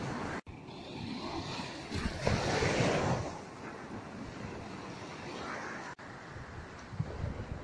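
Sea waves washing onto a beach by a canal at evening, a steady broad wash of surf with a swell around the middle, mixed with wind buffeting the microphone and no talk.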